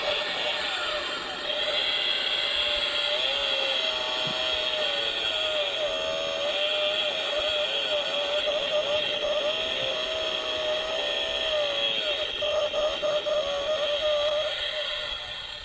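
A battery-powered toy chainsaw with fresh batteries runs continuously, giving a steady, buzzing electric whir that wavers slightly in pitch from start to finish.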